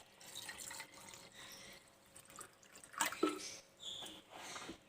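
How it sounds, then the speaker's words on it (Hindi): Water poured from a glass over seven pitted dates for a nabeez drink, heard as faint, quiet splashes and trickles with a brief stronger pour in the middle, in a hushed kitchen without speech. "अब 1 गिलास भर के हम इसमें पानी का डालेंगे।"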